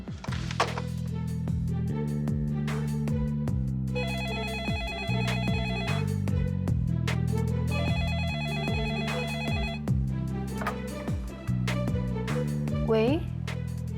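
A telephone rings in a repeating electronic pattern of bright tonal bursts, fairly quiet, with voices and other sounds around it.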